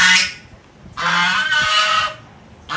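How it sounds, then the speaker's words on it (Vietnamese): Two geese honk loudly and close by in two long bursts separated by a short quiet gap, with a brief start of another honk at the end. "rồi hai con ngỗng nó nói luôn à"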